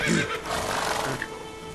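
A horse whinnies in the video game The Witcher 3, a shrill neigh lasting about a second, with low rumbling game background noise.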